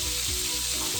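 Three tablespoons of butter melt in a hot pan for a shrimp dish, a close, steady sizzle and crackle with no talking.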